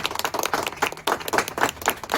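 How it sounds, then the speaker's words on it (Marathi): An audience at an Annabhau Sathe birth anniversary festival event applauds a newly elected president, a dense burst of clapping from many hands, close and fairly loud, rising and falling over a couple of seconds. "एक जोरदार टाळ्या त्यांच्यासाठी झाला पाहिजे"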